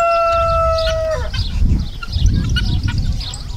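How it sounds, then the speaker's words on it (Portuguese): A guinea fowl on a rural farm in Minas Gerais, Brazil, gives harsh, scattered calls over a noisy outdoor background, following a steady held tone at the start. "Galinha da Angola."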